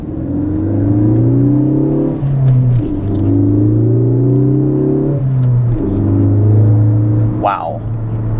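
A Ford car fitted with a Ford Performance exhaust accelerates hard, its loud engine rising in pitch through three gear pulls with brief dips at each shift, close and steady throughout, and a short high whine near the end.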